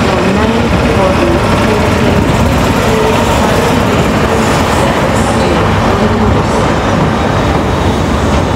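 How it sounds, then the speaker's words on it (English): Loud, continuous rumble and hum of an 11-coach train at Edinburgh Waverley station on the East Coast Main Line, steady throughout, with station announcements audible over it. "This train is formed of 11 coaches."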